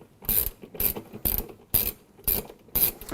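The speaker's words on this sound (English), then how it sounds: "Then I'm going to use a 10 millimeter. There is a bolt down here in the very bottom that we have to remove." Ratchet with a 10 mm socket on long extensions clicks in six short bursts of rapid pawl ticks as it loosens the bolt at the bottom of a Frigidaire FLCE7522AW laundry center washer agitator, close and clear with no talk.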